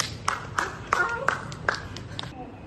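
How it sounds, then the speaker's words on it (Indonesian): Sparse clapping from a small group at the back of a classroom during a civic education group presentation, about eight distinct claps in an uneven rhythm, close and fairly quiet, with a voice talking over them. "Boleh tepuk tangannya yang belakang"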